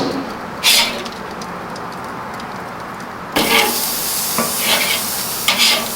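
Bacon sizzles over a charcoal grill, a close, crackling hiss that jumps louder halfway through, with sharp spits and pops scattered across it.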